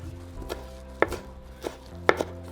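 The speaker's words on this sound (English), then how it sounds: "we're going to start to chop our cilantro and onion" A knife chops fresh cilantro on a cutting board in a home kitchen, with a few sharp, close strikes at an uneven pace over faint background music.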